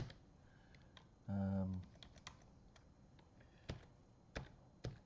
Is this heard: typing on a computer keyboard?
yes